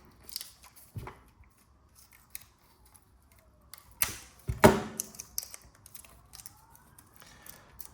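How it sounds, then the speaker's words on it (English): A razor blade cuts into a tough child-resistant plastic battery packet, giving a few sharp snips and crackling plastic crunches, loudest in a burst around the middle, with quiet gaps between. "So rip it open, they're pretty tough. I just use a razor blade here."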